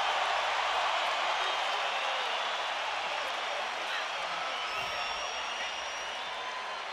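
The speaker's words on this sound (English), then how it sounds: "Crowd on their feet." An arena boxing crowd on its feet cheering after a fierce round between Canelo and GGG, a dense continuous roar with scattered whoops and clapping, steady and loud throughout.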